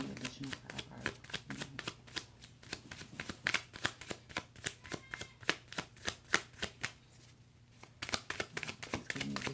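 A deck of tarot cards is shuffled for a reading: a long run of quick, crisp riffling flutters in steady rhythmic bursts, close by, with a brief pause near the end before the shuffling resumes.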